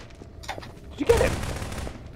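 Gunfire in the video game Prop Hunt, a quick burst of rapid shots midway, preceded by faint lighter pops, at moderate loudness.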